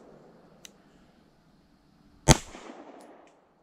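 A single loud, sharp gunshot from a Springfield Armory Prodigy pistol cracks out at a range, followed by a brief decaying echo, with a faint click beforehand and otherwise quiet surroundings.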